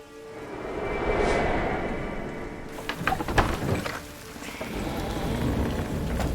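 Heavy rain pours down in a steady broadband wash, with a few sharper splashing knocks partway through; no voices are heard.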